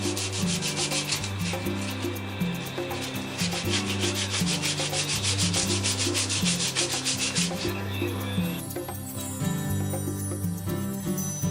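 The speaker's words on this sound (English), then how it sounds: "Sanding it with some 100 grit." An axe handle being sanded by hand with 100 grit sandpaper, heard as a continuous rhythmic rasping of abrasive strokes on wood, close and steady throughout, with no talking.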